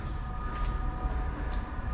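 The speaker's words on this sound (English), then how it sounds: "I think we've got a train approaching" A Flirt train approaching a platform on the Tottenham Hale to Hertford East branch line, a low continuous rumble with a steady mechanical hum, moderately near and without talking.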